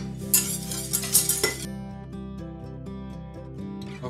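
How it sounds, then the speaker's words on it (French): Whisk scraping and clinking against a saucepan while beating sugar with egg yolks, a fast run of metallic taps and chinks that stops midway and leaves only a low background hum. "et je fouette directement."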